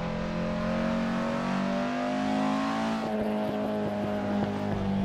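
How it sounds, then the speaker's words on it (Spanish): Ford Capri RS engine in the Assetto Corsa racing game, revving hard then lifting off so the engine brakes, with a loud continuous tone that steps down and crackles as the throttle closes. "el sonido de la retención es brutal, que levantas el acelerador y cómo empieza a retener el motor"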